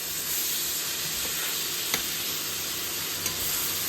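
Capsicum curry being stirred in a pan: a steady close sizzle and frying hiss runs throughout, with a few brief scraping knocks of the spoon against the pan.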